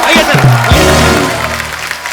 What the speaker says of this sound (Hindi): एक बार रेमो सर, जैकी और टाइगर के लिए जोरदार तालियां